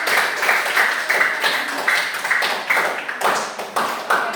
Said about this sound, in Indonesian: Kita tepuk tangan yang luar